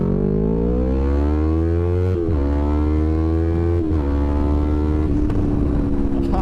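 A motorcycle revs and accelerates through the gears during a pull, the loud engine tone rising in pitch, dropping at two shifts, then climbing again close by.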